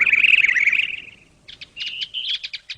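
Cartoon birds chirp close and clear, first a sustained warbling trill, then a pause, then a run of quick, rhythmic tweets, with no speech over them.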